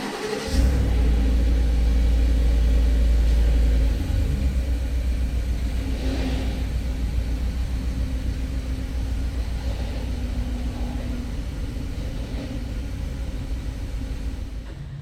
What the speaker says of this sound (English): here's a cold start on the 2019 F-150